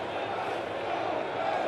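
A baseball stadium crowd at a Phillies game roars after a strikeout, a dense, sustained wash of cheering that swells slightly toward the end.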